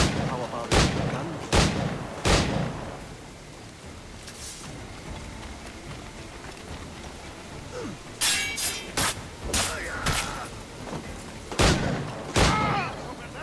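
Gunshots from Assassin's Creed IV Black Flag ring out in sharp, loud bursts, a few spaced single shots followed by a denser volley of cracks, with game-character speech between them.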